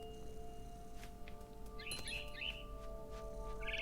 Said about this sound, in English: Goddamn birds.